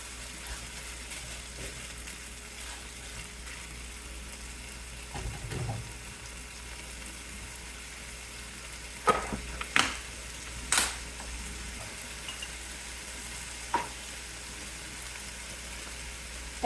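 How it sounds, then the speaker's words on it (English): Fried rice cooking in a pan: faint steady sizzle throughout, with a few brief clicks and knocks of utensils, quiet and close, no talking. "I'm basically just making fried rice, and then I'll add in sun-dried tomatoes, some cheese,"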